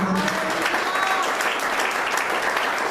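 Steady applause from a church congregation fills the room, dense and continuous throughout, with a brief voice audible at the very start.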